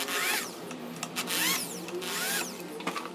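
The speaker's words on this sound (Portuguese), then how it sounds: "eu vou iniciar os parafusos" Power drill driving screws into a simple wooden stool in a woodworking shop, whining in short bursts with rising pitch sweeps as each screw starts, loud and close, no talk.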